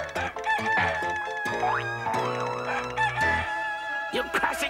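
A cartoon rooster crows over a music bed, a loud, drawn-out cock-a-doodle-doo with a rising, wavering tone in the middle of the clip, surrounded by bouncy orchestral accents.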